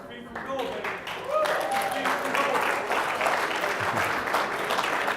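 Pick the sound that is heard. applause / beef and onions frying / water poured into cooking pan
applause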